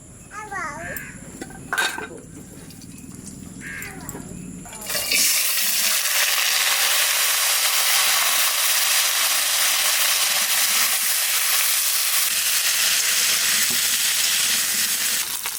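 Vegetables for khichuri hit hot oil in a pan with a sudden loud, steady sizzle that runs on for about ten seconds, after a few soft clinks and handling noises at the start.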